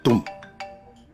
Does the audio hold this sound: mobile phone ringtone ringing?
yes